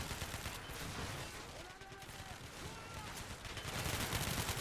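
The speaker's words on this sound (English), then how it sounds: "50 caliber still working." Heavy .50 caliber machine gun fire in a video game battle, dense sustained bursts of gunfire blending into a continuous roar, with distant shots and battle noise throughout and voices faintly underneath.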